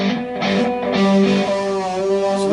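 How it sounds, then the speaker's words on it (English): Distorted electric guitar plays back through a Zoom LiveTrak L12 mixer, a loud sustained chord with steady harmonic tones ringing out for a couple of seconds, no voices. "And then comes the distorted guitar."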